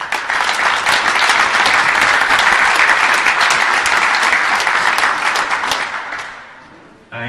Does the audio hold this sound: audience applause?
yes